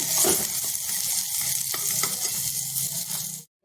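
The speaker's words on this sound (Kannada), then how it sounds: "ಈರುಳ್ಳಿ ಹಾಕ್ಕೊಂಡು ಒಂದು ಸ್ವಲ್ಪ ಹುರ್ಕೊಳ್ತೀನಿ" Chopped onions frying in a pan for a Brahmi saaru, giving a loud, close, continuous sizzle with occasional stirring scrapes that cuts off abruptly near the end.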